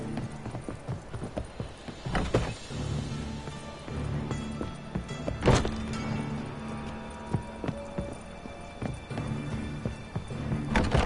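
Hooves of a horse galloping in The Witcher: Wild Hunt, a steady rapid clip-clop rhythm at moderate loudness with occasional snorts and no talk.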